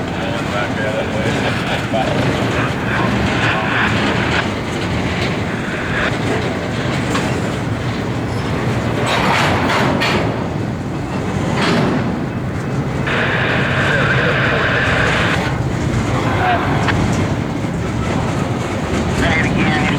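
A CSXT intermodal freight train, Q184 or I184, led by CP Rail AC44 and BNSF warbonnet AC44 locomotives, passes close and loud with continuous rumbling, rhythmic wheel clatter and occasional squeals, and voices can be heard in the background.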